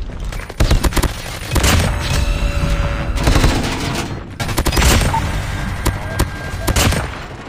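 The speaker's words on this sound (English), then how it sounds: "kill 10 enemies with any assault rifle in multiplayer matches" Assault rifle gunfire in a Call of Duty Mobile multiplayer match on the Shipment map: loud, sustained bursts of rapid automatic fire with booming impacts, broken by brief gaps, dense and continuous game action throughout.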